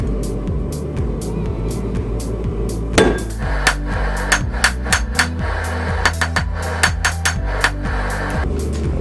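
A blacksmith hammers railroad spike steel into tongs on an anvil: a bright metallic strike, then a run of ringing blows that quicken into a rhythmic series, close and loud over a low background rumble.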